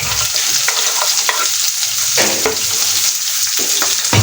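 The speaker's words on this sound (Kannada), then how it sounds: "ಬಳ್ಳೆ ಇಟ್ಟು ಅದಕ್ಕೆ ಎಣ್ಣೆ, ಉದ್ದಿನಬೇಳೆ, ಸಾಸಿವೆ, ಜೀರಿಗೆ, ಕರಿಬೇವು ಸೊಪ್ಪು, ಹಸಿಮೆಣಸಿನ್ಕಾಯಿ ಎಲ್ಲ ಹಾಕಿದ್ದೀನಿ." Oil tempering with urad dal, mustard seeds, cumin, curry leaves and green chillies in a pan sizzles loudly and continuously, with repeated scraping stirs and crackling pops close up.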